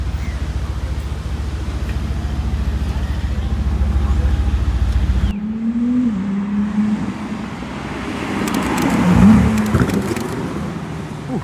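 A Ferrari 296 GTB's V6 rumbles low and loud, then a downshift brings a brief rising blip and crackling burbles, heard from inside the car with road noise around.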